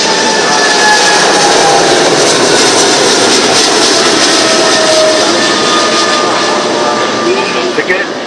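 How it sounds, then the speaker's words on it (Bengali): A passenger jet airliner takes off from the runway on a flight to Dhaka, its engines producing a loud, steady, broadband roar that fills the scene throughout without letting up. "দেখতে পাচ্ছেন এই যে বিমানটি ইতিমধ্যে রানওয়েতে এসেছে এবং আকাশে"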